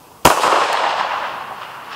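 A rifle fires a single loud, sharp shot at an outdoor shooting range, aimed at a berm, and its echo rolls away and fades over the next two seconds.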